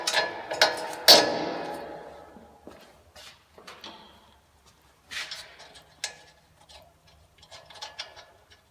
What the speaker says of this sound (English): Now I'll install my end link.